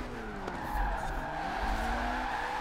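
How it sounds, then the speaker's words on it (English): Car tires squeal in a sustained skid while drifting sideways in Forza Horizon 4, with the engine droning beneath the steady screech. "Doing a little sideways sliding"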